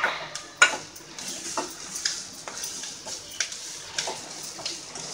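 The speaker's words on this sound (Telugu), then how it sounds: "ఇలా బాగా కలుపుకొని" Carrot and cashew fry being stirred in a pan with a utensil, giving light scraping and clinking taps at an irregular pace, soft and close with no talk.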